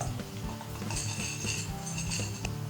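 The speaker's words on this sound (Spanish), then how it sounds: "Removemos bien para que no haya así grumos." Utensil stirring vegan tortilla batter in a bowl, with continuous scraping and clinking of metal against the bowl under a busy kitchen background.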